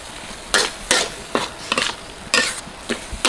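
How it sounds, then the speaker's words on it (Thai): Large fresh shrimp with curry powder, spring onion, celery and red chili being stir-fried, with irregular scraping and clattering strokes of a spatula against the pan, close and fairly loud with no talking. "ก็จะใส่ต้นหอมขึ้นช่าย แล้วก็พริกแดง ผัดต่ออีกนิดหน่อย"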